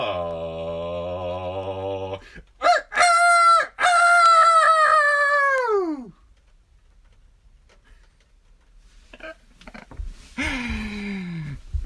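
Voices imitate rooster crows: a long drawn-out crow, then a couple of short bursts and another loud crow, followed by quieter scattered calls and a final rising crow.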